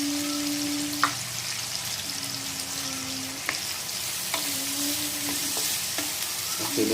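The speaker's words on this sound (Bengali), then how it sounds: "তো তেল গরম হয়ে গেছে, আর এখন পেঁয়াজগুলো দিয়ে দেবো।" Thinly sliced onions fry in hot oil for chingri bhuna, a close steady sizzle broken by a few spoon knocks and stirring scrapes against the pan.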